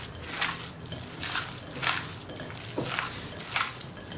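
Köfte meat mixture, ground meat with onion, pepper paste, red pepper, black pepper, cumin and salt, being kneaded by hand: soft, wet squishing pulses roughly every second, quiet and close, with no talking.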